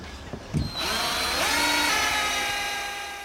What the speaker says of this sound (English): it's time to drill a hole for the wire harness and the cable.